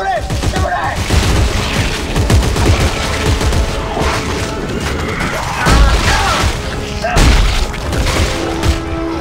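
Gunfire and heavy impacts in the Dead Space video game, loud, dense bursts of shots mixed with booms and crashes, continuous throughout with a voice speaking over the action.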